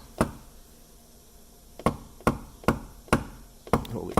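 A PDR knockdown tool taps a sharp dent on a Lincoln MKZ panel, six or so crisp close knocks at an uneven rhythm with quiet gaps between.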